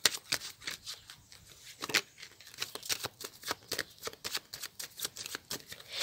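Tarot cards being shuffled and cut by hand, a close run of crisp riffling flicks and soft slaps in an irregular rhythm, with no talking.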